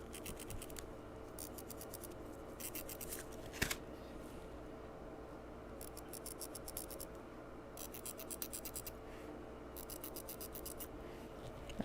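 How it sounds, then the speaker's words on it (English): Chalk scratching across fabric in short bursts of rough rasping strokes, quiet and close, with pauses between the marks. "but I think I can mark it with the chalk."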